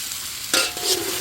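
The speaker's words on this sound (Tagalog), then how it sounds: "Add na natin ang pork belly. Sasangkutsahin natin ito hanggang sa bumango at mag-brown." Pork belly hitting a hot pan with pepper and bay leaf, a sudden bright sizzle bursting in midway and then settling into steady frying hiss with a short stirring scrape.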